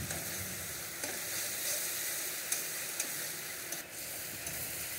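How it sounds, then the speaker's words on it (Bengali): Spices, garlic among them, fry in a pan for a Bengali doi katla fish curry, giving a soft, even sizzle with a few light taps of stirring, fairly quiet and uninterrupted by talk. "ভালো করে কষিয়ে নিচ্ছি"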